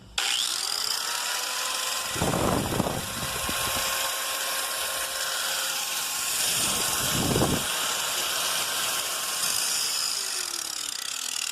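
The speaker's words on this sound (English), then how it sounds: "there is an exhaust vent on this grinder. So if you turn it on, I'll show you on this pile." A running angle grinder, used for rust repair, whines steadily at close range while air rushes from its exhaust vent in two short loud bursts as it is aimed at a pile of debris.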